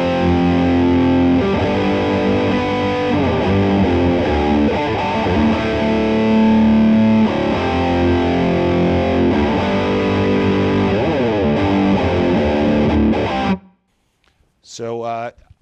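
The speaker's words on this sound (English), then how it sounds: "I'm playing the same chords, but I'm adding notes on the top." Distorted electric guitar plays the same rock chords with added top notes, dense and loud for about thirteen seconds before stopping abruptly, followed by a brief faint tail.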